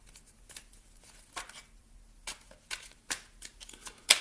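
Oracle cards shuffled by hand, giving soft papery riffles and flicks in several short bursts with quiet gaps, ending in one sharper snap near the end.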